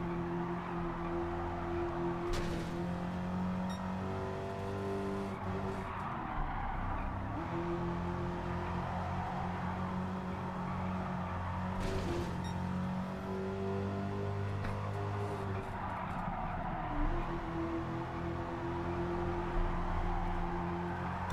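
A car driving in Gran Turismo 7, its engine droning and rising in pitch through repeated acceleration and gear changes, with a dip as the handbrake swings the rear around.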